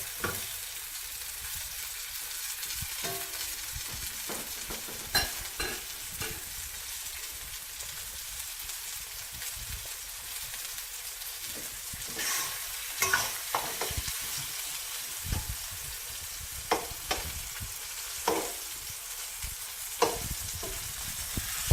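Venison pieces frying in small batches in a hot pan over a wood fire sizzle steadily for the whole stretch, with occasional sharper spits and pops rising above the continuous hiss.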